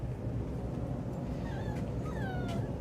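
Puppies whimper and whine in a few thin, rising high-pitched cries over a soft rumbling background, close by with no speech.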